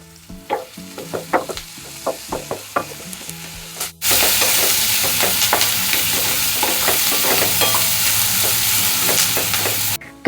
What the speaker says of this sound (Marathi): चांगला फ्राय करून घ्यायचा, लई करपू द्यायचं नाही कांदा